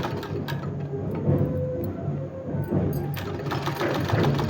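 A sewing machine stitches a decorative sleeve design, running in a steady, continuous mechanical whir with a fast rhythmic ticking throughout, close and fairly loud.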